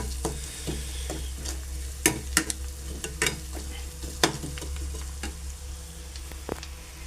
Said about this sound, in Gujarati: તેલમાં ફ્રાય થવા દેવાનું